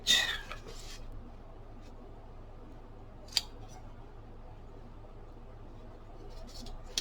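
Scissors snip through fabric being cut for a handmade envelope, a brief cluster of crisp cuts at the start, another single snip midway and a few more near the end, close and fairly quiet.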